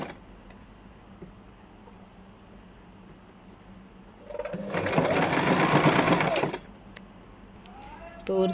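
A sewing machine stitches a frill onto a girl's frock in one loud, rapid burst of running stitches lasting about two seconds, set between quieter handling noises and background hum.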